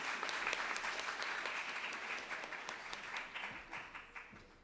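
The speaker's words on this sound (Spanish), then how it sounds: "un aplauso para ustedes" An audience applauds at the close of a talk or community gathering, a steady wash of many hands clapping at moderate distance that holds through and thins slightly toward the end.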